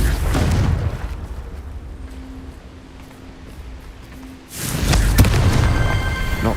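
A Confringo fire spell cast in Hogwarts Legacy hits with a loud explosive blast near the end, preceded by a quieter magical hum and low ambient rumble.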